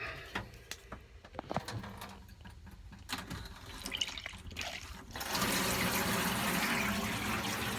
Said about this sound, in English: As you can see, working fine there, hot and cold shower.